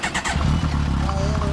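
A 2011 Kawasaki 1400GTR (ZG1400 Concours) fitted with a Striker exhaust runs close by, giving a deep, steady engine rumble with a slight rise in revs at the start.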